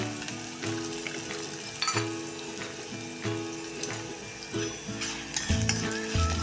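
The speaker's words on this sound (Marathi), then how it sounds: "त्यामध्ये टाकायची ही उडदाची डाळ उडदाची डाळ आपण ही थोडीशी लालसर होईपर्यंत परतून घेऊया" Urad dal fries in a pan with a continuous close sizzle and crackle, broken by occasional scraping and clinking of a spatula as it is stirred.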